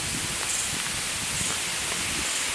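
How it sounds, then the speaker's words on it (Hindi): Heavy rain pours steadily outdoors on a college campus in Delhi, a dense, loud, even hiss of falling water with no voices over it. "बारिश आ रही बहुत ज़ोर से यार,"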